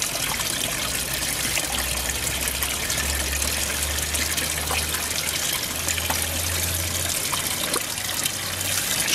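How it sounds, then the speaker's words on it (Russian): Water running steadily from a tap at a temple in Yangon, Myanmar, a continuous close trickling and gushing stream with a low hum beneath, no talk. "Смотрите, специально включается вода"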